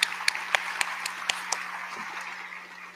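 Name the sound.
audience applause at an honor society induction ceremony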